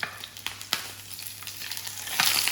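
Meat browns in a hot pan with a bright, crackling sizzle and a few sharp pops, close up and growing slightly louder toward the end, with no voices.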